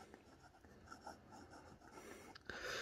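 A stiff, non-flexing fine nib on a Parker Streamlined Duofold Senior fountain pen scratches across paper in short, close strokes, quiet and dry, with no talking.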